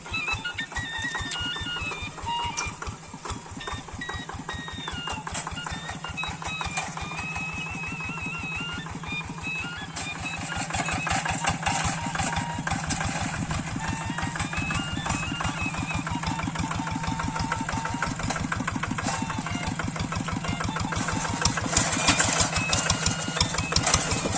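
A small hand tractor engine runs steadily in a rice paddy, its fast rhythmic chugging close and loud throughout, with a mechanical rattle that grows slightly stronger toward the end.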